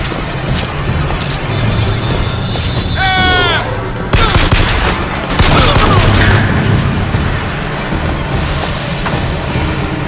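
Gunshots from the first-person shooter Bioshock Infinite ring out in loud bursts over a dense, busy game mix of music and effects, with clattering impacts and a bright sweeping sound partway through.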